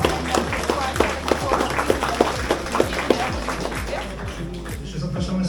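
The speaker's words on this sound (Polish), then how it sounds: "Jeszcze raz wielkie brawa" Audience applause at a museum exhibition in Jastrzębie-Zdrój, heard as steady mixed clapping with sharp irregular hand taps and a background murmur of people talking, fairly close and lasting the whole stretch.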